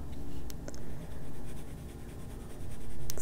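Colored pencil shading on paper for an adult coloring page produces a continuous soft, scratchy rubbing in short back-and-forth strokes, fairly close and steady, with a few small ticks.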